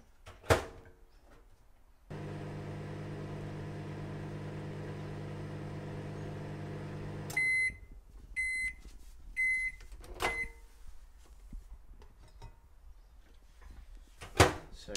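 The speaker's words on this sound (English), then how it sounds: "So you want to put it in the microwave for 3 minutes." A microwave oven runs with a steady low hum for about five seconds while sterilising a face mask clamped in a steriliser, then beeps repeatedly and its door clicks open, with handling clatter around it.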